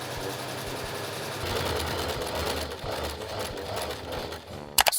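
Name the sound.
sewing machine stitching Christmas stocking pieces together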